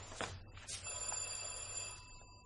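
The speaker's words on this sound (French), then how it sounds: "Un téléphone à cette heure-ci, c'est probablement pour moi." An old-style telephone bell rings indoors in an entryway late at night, a couple of sharp bright trills followed by a sustained metallic ring that slowly fades, faint and set back in the room.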